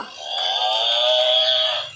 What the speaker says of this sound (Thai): แม่วัว